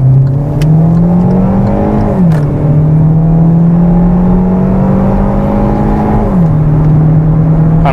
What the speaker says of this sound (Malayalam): നമുക്ക് എന്തായാലും 0 to 100 ഒന്ന് നോക്കാം.